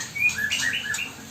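Young songbird chicks in a cage give a short run of thin, high chirps, several quick tweets close by over a faint steady background hiss.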